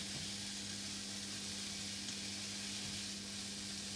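Chicken with leeks and thyme sizzles steadily in a hot frying pan, a constant crackling hiss with a faint low hum underneath, quiet and close.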